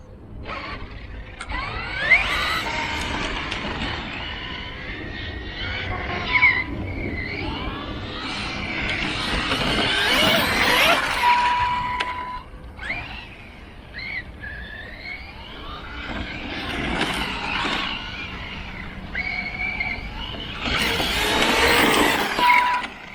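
A Reely Deathwatcher 6S RC car's electric motor whining and surging in repeated bursts of acceleration, rising and falling over about twenty seconds with tire noise, loud and fairly close.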